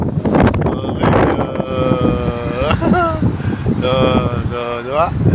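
Strong wind buffeting a microphone outdoors while cycling in Abu Dhabi city, a loud continuous rushing noise with a person talking over it.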